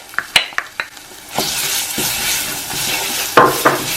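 Tomato paste hits hot oil in a pan for a spicy pork pickle, starting with a few sharp clinks of a utensil against the pan before a close, steady sizzle takes over, with more scrapes and taps near the end; no talking.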